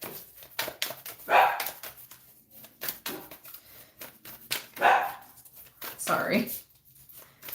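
Dogs bark in short bursts amid steady rustling and tapping, with a person talking in between; the barks are fairly close and come at irregular intervals.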